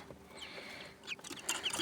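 Young chicks in a small mini enclosure, soft high peeping and chirping throughout, close by, over a low steady background with a few brighter calls near the end.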